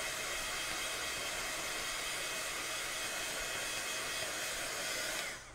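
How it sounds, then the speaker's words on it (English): A hot-air blower dries freshly applied paint on an art piece with a steady, loud, broadband whooshing hiss that holds constant for about five seconds before cutting off abruptly, alone without speech. "With a heat gun, you'll probably find it dries faster than with a hairdryer."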